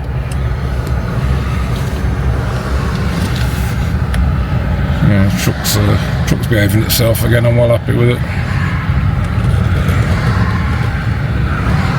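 Ford Ranger pickup cruising on the A1 motorway, a steady low road and engine drone inside the cab while someone talks over it for much of the stretch, with brief tapping or clicking sounds in the middle.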